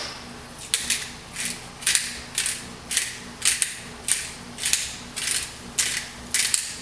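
A pepper grinder cracks black pepper into a cream sauce for orecchiette pasta, making about ten evenly spaced rasping, ratcheting bursts, close and fairly loud, over a faint low hum with no talking.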